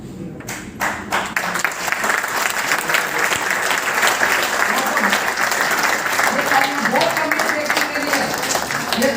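Audience applause at a network-marketing plan presentation, loud and steady for about nine seconds, with a few sharper claps at the start and some voices mixed in underneath.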